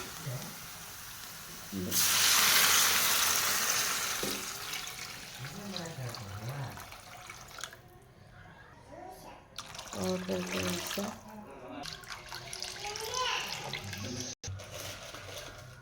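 Water gushes into a pan of frying upma ingredients, a loud broadband splash lasting a couple of seconds, followed by hissing and bubbling while a person talks over it.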